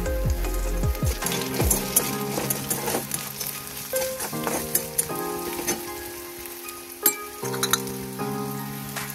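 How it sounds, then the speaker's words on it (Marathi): Garlic fries in oil for besan vadi in a home kitchen, giving a steady crackling sizzle close by, with occasional stirring and clinks of a utensil against the pan. "लसूण पिवळे होईपर्यंत आपण त्याला ऑइलमध्ये फ्राय केली."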